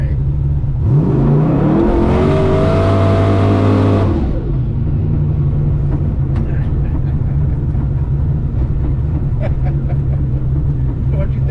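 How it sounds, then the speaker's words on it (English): A 1600hp twin turbo Mustang does a short burnout: the engine revs up hard and loud for a few seconds, then drops back to a steady rumble heard from inside the car. "we gotta do a little burnout, you know, clean the tires off"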